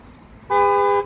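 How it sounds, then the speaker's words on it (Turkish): The alarm of a 2014 Ford Focus Trend X sounds its horn once in a steady, loud tone for about half a second, cutting sharply in over quiet background noise. "Alarm devreye girdi arkadaşlar hırsız olarak kabul ettiği için."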